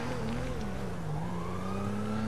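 Police siren wailing in the video game GTA V, a steady rising and falling tone sounding close and continuous over car engine noise, with no talk.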